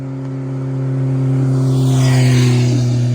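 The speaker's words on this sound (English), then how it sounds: "I don't know what vehicle is behind us right now." A vehicle passes behind the speaker outdoors, its engine and tyre noise swelling to a loud, close peak and then holding, with no voices over it.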